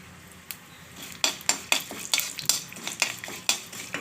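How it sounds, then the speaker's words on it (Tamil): Mustard seeds and fenugreek crackling in hot oil in a kadai for pepper rasam: sharp pops and spattering come in quick, uneven bursts over a light sizzle, close and fairly loud. "எண்ணெய் காஞ்சதும் கடுகு,"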